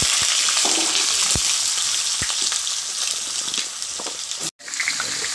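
Chunks of potato and pointed gourd fry in hot oil with bay leaves and five-spice seeds, a loud, close crackling sizzle with sharp pops and spatula knocks, briefly cut by a short silent gap.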